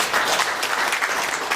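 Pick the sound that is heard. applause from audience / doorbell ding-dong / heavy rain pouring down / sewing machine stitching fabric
applause from audience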